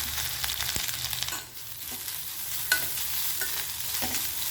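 Continuous sizzling of grated coconut frying in oil until brown, close up, with occasional scraping and stirring sounds from a utensil in the pan.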